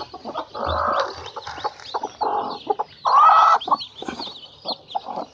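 Several hens cluck and murmur close by while brooding clutches of eggs on a farm, with uneven bursts of low clucks and one longer, drawn-out call, no talking.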